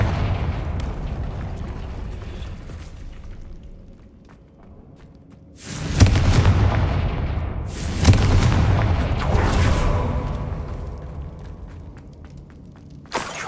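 Confringo fire spell blasts in the video game Hogwarts Legacy: two loud, booming fiery bursts with broad crackling roars that swell and fade over several seconds, close and with no talk.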